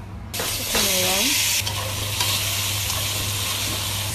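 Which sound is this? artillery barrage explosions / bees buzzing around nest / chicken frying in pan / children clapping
chicken frying in pan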